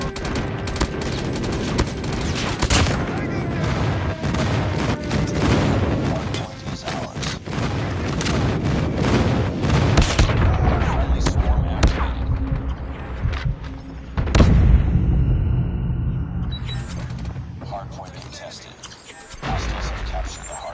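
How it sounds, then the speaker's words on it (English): Airstrike explosions in the Call of Duty Mobile game roar through a dense, continuous barrage of booms and rapid gunfire, loud and sustained, with a heavy blast near the middle and in-game voice callouts mixed in. "Friendly airstrike incoming."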